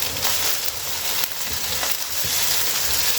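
Ginger garlic paste hits frying onions in a pan for an egg curry, giving a steady, close, loud sizzle that holds evenly throughout with a few faint scrapes of stirring and no talk.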